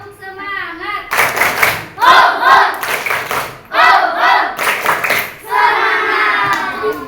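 Classroom of children doing a rhythmic spirit clap, bursts of loud unison clapping in patterned groups alternating with chanted voices and shouts.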